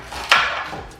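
A single knife chop through food on a cutting board while preparing leftover turkey soup, one close, crisp strike followed by a short ring of resonance.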